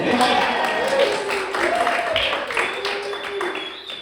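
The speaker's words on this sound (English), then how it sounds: "round of applause for Evan" Wedding guests at a ceremony in Dalhousie Castle, Edinburgh, applaud together in a steady burst of clapping that fades slightly, with voices audible over the applause.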